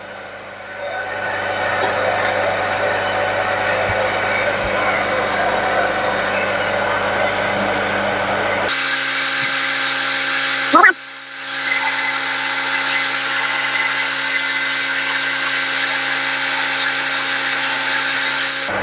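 A metal lathe cuts steadily with the cross feed engaged, giving a loud continuous machining whine with a tone shift partway through and a brief clunk before the cut resumes, alone without talk.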